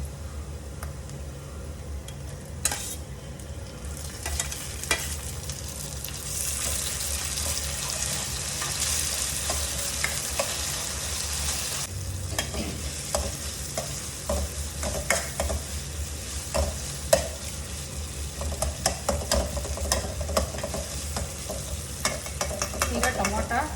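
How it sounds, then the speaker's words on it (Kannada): Tomato and onion sizzling in a pan while being stirred during rava upma preparation, a steady close frying hiss with frequent spoon scrapes and clinks throughout, no talking. "ಈಗ ಈರುಳ್ಳಿ ಬೆಂದಿದೆ, ಟೊಮೊಟೊ ಹಾಕೊಳ್ಳೋಣ"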